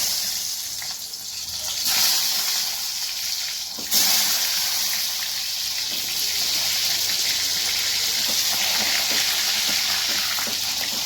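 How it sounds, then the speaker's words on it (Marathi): Stuffed eggplants crackle and sizzle in hot oil, a steady dense frying hiss with a brief surge near the start as they hit the pan, continuing evenly and fairly loud with no talking. "चला, तेल तापलंय आपलं. आता वांगे सोडून द्यायचे त्याला."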